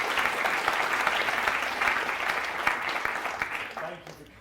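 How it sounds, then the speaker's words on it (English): Sustained audience applause at a breakfast briefing event, steady and fairly loud throughout before fading slightly at the end, with some voices mixed in. "You get another round of applause."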